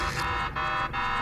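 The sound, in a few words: alarm sounding in a video game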